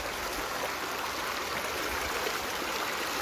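A stream runs beneath a small bridge in a West Coast natural setting, giving a steady, close, full-bodied rush of water that holds constant throughout with no voices.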